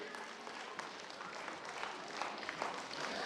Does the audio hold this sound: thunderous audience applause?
yes